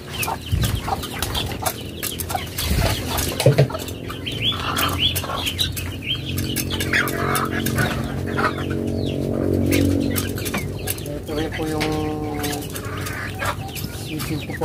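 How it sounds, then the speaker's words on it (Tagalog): Newly hatched chicks peeping among clucking chickens in a rural yard, with frequent close chirps and clucks over scattered background rustling and a faint voice. "mga sisiw po yan, apat na napisa."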